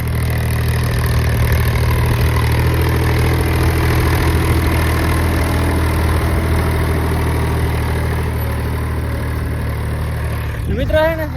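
A tractor engine with a harrow runs nearby, a loud continuous low drone with steady idling rumble throughout and a brief sharper burst near the end; someone speaks over it.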